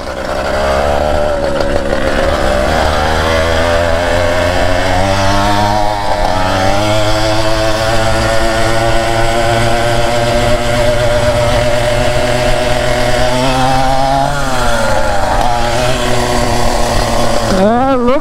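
A small two-stroke motorized bicycle engine on a 20-inch bike, newly back on the road after a month unused, buzzes loudly and steadily, revving up and down in pitch with a few sharp throttle surges near the end.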